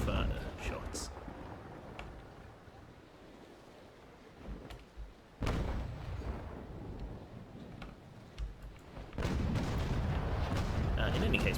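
Ship cannons fire at long range in the naval video game Naval Action, as a few heavy booms and rumbling blasts over a low sea-like background, with a sharp burst near the middle and a sustained roar at the end.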